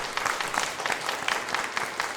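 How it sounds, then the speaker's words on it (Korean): A church congregation claps steadily and warmly during a Sunday service, the applause filling the whole stretch at an even pace without cheering or talk. "우리 박수로 환영하겠습니다."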